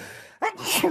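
A person's sneeze, loud and close in a radio studio, beginning with a short sharp inhaled catch and then a breathy burst, with no one talking through it.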